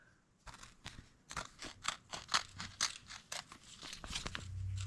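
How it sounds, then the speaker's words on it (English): Sharp scissors snipping through stealth strips for TETHRD ONE tree-climbing sticks, a quick irregular series of close, crisp cuts and crunches, heard alone without talk. "then we cut them with scissors"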